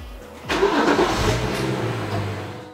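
A BMW M235i with the N55 engine and a Stage 1 tune cranks and fires up, settling into a loud, steady idle close by.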